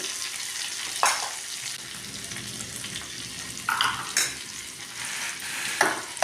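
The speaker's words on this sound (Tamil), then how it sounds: "எல்லாமே கிளறி விட்டுக்கலாம், நல்லா வதங்கட்டும்" Tomatoes and salt stirred and sautéing in a pan for a buttermilk curry, with a steady broadband sizzle and several louder scraping stirs of the spoon against the pan, close by and without talk.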